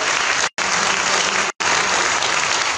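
Loud, dense applause from an audience at a poetry reading program rolls on steadily, broken by two very short cuts of silence.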